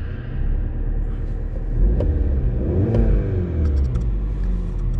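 A CUPRA car with a 2-liter turbo engine revs in a steady, loud low rumble, the revs climbing and easing in waves with no talk over it.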